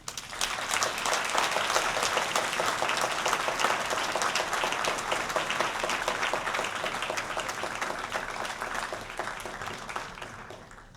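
An audience at an academic convocation applauds the award winners with sustained, dense clapping that holds steady for about ten seconds and then tapers off at the end.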